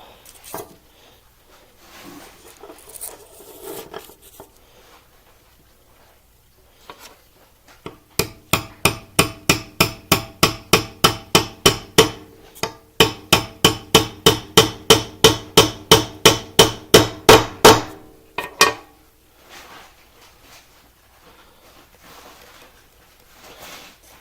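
A hammer taps out a drilled cut in a fabrication build, about thirty sharp, evenly spaced blows that grow louder toward the end, framed by quieter handling noise before and after.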